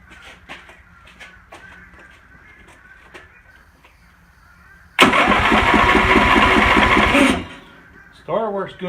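A lawn mower's starter cranks for about two seconds after the key is turned, a loud close mechanical whirring that stops abruptly; someone talks quietly before and briefly after.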